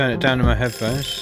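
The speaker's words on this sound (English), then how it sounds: "that's my alarm gone off" A brief alarm rings during a home music recording and mixing session, heard under a person speaking.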